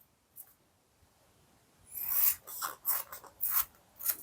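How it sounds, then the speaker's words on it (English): A fake sugar jelly sweet for a craft project being cut with a knife: after a quiet start, a run of close, raspy slicing strokes comes in five or six short bursts, with no talking. "we're going to cut a piece of it off like so"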